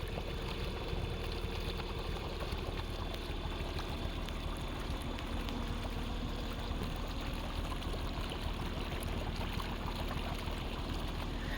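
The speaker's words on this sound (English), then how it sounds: "they just cut the pump on, so this is going to be flowing here in a second" Steady rushing and splashing of water pouring out of a sump pump discharge, a continuous gushing flow with a low mechanical hum beneath, no voices.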